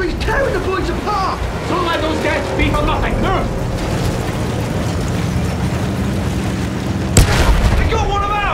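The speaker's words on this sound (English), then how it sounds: "Artillery's tearing the boys apart!" Artillery shells bursting during a Battlefield 1 battle, a steady rumbling barrage of booms with one sharp, loud blast near the end, mixed with battlefield noise and shouting voices.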